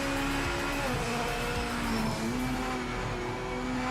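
BMW race car with a 4-liter flat-plane V8 in Project Motor Racing, a steady droning engine note with shifting tonal harmonics as it holds revs, fairly close and continuous with no talk.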